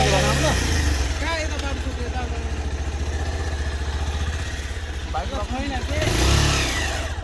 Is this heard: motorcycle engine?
yes